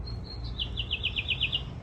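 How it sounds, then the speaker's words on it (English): Small birds chirp outdoors in a quick run of about ten bright, evenly spaced notes, moderately close, over a low steady background rumble. "y'all hear the birds chirping?"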